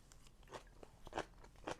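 Someone chews kimchi banchan close to the mic, with soft, irregular crunches and wet bites over about two seconds.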